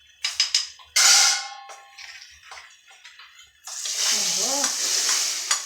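Kashmiri red chili tempered in hot oil for sambar: clattering and brief voices, then a loud, steady frying sizzle that swells and holds to the end.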